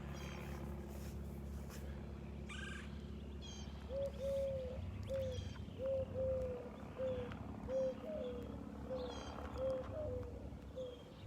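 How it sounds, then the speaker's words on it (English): Crows call repeatedly in short, regular cawing notes over a steady low rumble in North Naples, Florida, the calls moderately distant and rhythmic. "A lot of blackbirds. You can hear them."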